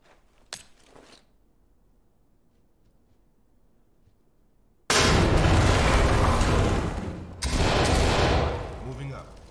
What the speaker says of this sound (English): C2, flashbang it and clear.